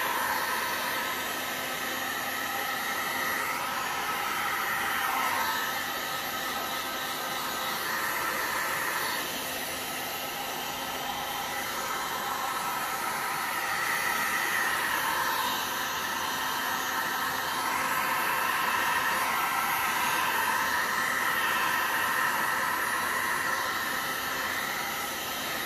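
A heat gun blows hot air over white and gold 3D resin flower coasters, a steady broadband hiss that holds constant and fairly close for the whole stretch, with no talking.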